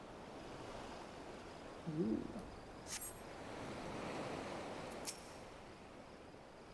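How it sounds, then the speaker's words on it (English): Gentle ocean surf and soft wind wash steadily through a Final Fantasy XIV island scene, with a brief vocal exclamation near the start and faint high chimes drifting in the background. "The refreshing caress of the wind, the soothing whisper of the waves."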